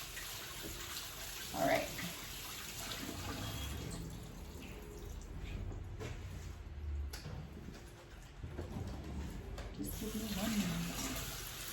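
Water runs steadily from a kitchen tap as hands are washed, a continuous broadband rush throughout with a brief louder splash near the start; a person speaks briefly over it.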